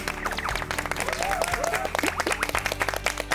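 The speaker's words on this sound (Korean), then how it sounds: "서로의 자축의 의미로 박수 한번 칠까요?" Six finalists of a Christian alternative school founders' audition show clap together in a studio, a short burst of close, lively applause with no talk.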